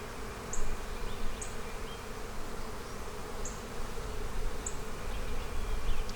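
Bees buzz densely around an open hive box, a close, continuous swarm drone with individual insects whining past now and then, and no voices.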